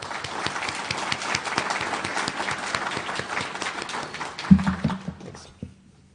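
An audience claps steadily to welcome keynote speaker Keith at a conference. Dense applause fills the room, then tapers off after a single loud thump near the end.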